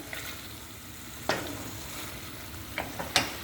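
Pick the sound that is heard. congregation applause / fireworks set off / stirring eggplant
stirring eggplant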